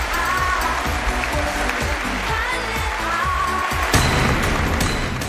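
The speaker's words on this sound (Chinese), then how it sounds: "掌声有请" A studio audience at a televised dating show claps for an arriving female guest, a dense, sustained burst of applause over rhythmic background music.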